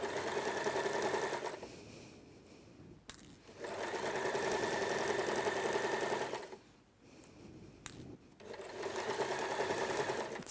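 A sewing machine stitches a zipper to a seam allowance steadily in three long runs, each a few seconds, with short pauses and clicks between them; no talking.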